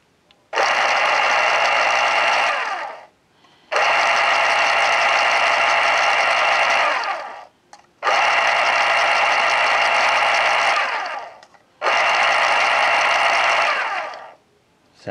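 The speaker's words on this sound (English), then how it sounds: "I'll just run the motor." A vintage Panasonic electric pencil sharpener motor runs in four separate bursts of steady whirring, each lasting a few seconds before cutting off and briefly spinning down.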